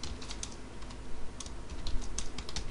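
Rapid close-up typing on a computer keyboard as Java code is entered, a steady run of crisp keystrokes over a faint background hum, no voice heard.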